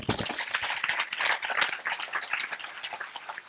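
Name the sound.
audience clapping loudly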